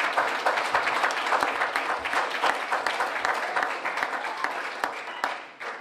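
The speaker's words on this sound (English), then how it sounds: "Y'all give yourself a round of applause." Audience applause at a keynote talk, dense sustained clapping from a large crowd throughout, loud and even before tapering at the very end.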